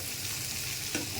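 Chopped onion and pumpkin fry in a pan with a steady, soft sizzle. Brief stirring sounds occur in this short stretch.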